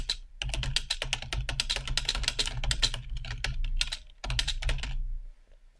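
Rapid, steady typing on a computer keyboard, dense clicking keystrokes close to the mic with a short pause near the end, no voices.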